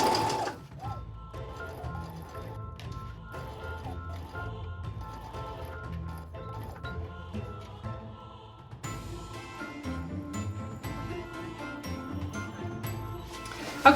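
A sewing machine stitches ribbon border onto a Halloween trick-or-treat bag, running in steady close-up mechanical bursts with a rhythmic whirring and clatter, briefly pausing before continuing louder.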